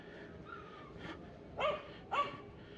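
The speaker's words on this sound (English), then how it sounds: "there's another dog over here and this barky one in the street" A dog barks a few times out in a street in the La Providencia barrio of León, Nicaragua, two sharp barks close together near the end, with quieter yips earlier over faint outdoor background noise.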